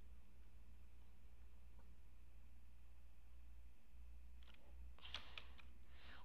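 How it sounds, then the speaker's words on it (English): A few quick clicks and taps of computer keyboard keys near the end, after several seconds of steady low hum with little else. "This is the player smacking his keyboard."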